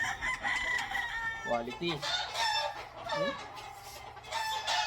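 Golden Boy gamefowl broodstag rooster crowing in a farmyard, with clucking fowl and other crows around, while someone talks nearby.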